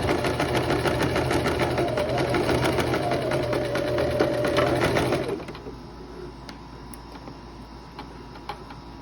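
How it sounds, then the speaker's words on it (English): A home sewing machine stitching a short three-inch seam on a dress, with a backstitch, running steadily and loudly up close for about five seconds before stopping, leaving quiet room noise. "I'm just sewing those 3 inches"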